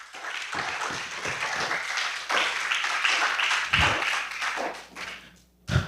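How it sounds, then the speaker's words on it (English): Scattered clapping from an audience at a People's Labour Party press conference in St. Kitts and Nevis, uneven and fairly close, with a few sharper taps and a burst near the end. "I really think that deserves another round of applause."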